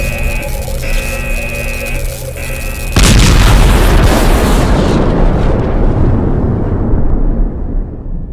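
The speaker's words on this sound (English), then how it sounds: "This thing is going to explode." An overcharged energy core explodes in Last Days of Lazarus: after a few seconds of steady humming tones, a huge loud boom hits and rolls on into a long, rumbling roar that slowly fades.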